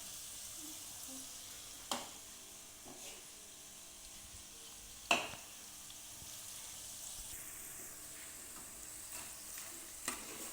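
Raw banana chips frying in hot oil in a home kitchen, giving a steady soft sizzle with a few sharp clatters of a spoon or pan at intervals, with no talking.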